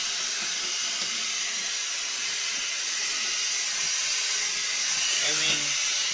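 Dirt Devil 3-in-1 Reach Max Plus cordless vacuum cleaner running with suction, a steady close broadband hiss and whine throughout, with a brief voice near the end.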